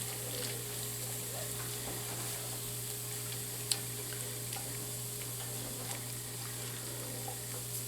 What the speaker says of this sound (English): And we want that to sizzle